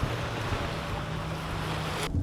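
Strong wind buffets the microphone over surf at a beach on Oahu, a loud, steady roar of wind and waves with no voices.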